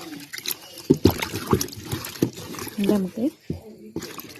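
An ingredient for a hair pack is swished and rinsed in water, with irregular splashes, drips and handling clatter close by as someone talks throughout.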